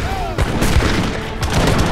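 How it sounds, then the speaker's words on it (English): Culverin cannons boom in an Age of Empires III battle, a few heavy blasts in quick succession over dense, chaotic combat noise. "My brother brings out Culverians at just the right moment."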